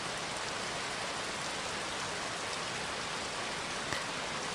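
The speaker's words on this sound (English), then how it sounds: "Can you hear the rain?" Steady, even rain hiss fills the space with a continuous broadband wash, close and unbroken, with no voices.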